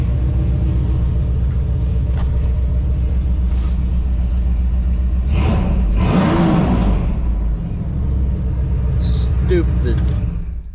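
A big block V8 with long tube headers and a single MagnaFlow muffler idles with a loud, steady low rumble up close, briefly swelling in the middle, with a voice talking over it.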